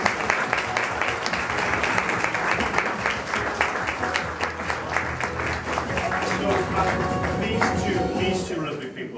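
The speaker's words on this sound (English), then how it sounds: "Please give a lovely round of applause to Jack McNeil and Lucy Evans." Warm audience applause at the Nottingham Theatre Royal pantomime launch, steady dense clapping with a few cheers rising over a murmuring crowd, continuing for around nine seconds.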